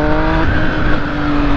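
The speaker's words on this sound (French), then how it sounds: "Ici, je sors de l'agglomération, j'accélère un peu." A 1050 vehicle accelerates hard leaving town, its engine loud and close with a steady, rising rev that climbs in pitch over the short stretch.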